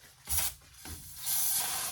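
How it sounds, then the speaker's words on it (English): Acetone spraying onto a car brake rotor in two short hissing bursts, close and moderately loud, with a brief pause between them. "take some acetone and clean off the surface. the rotor the best I can"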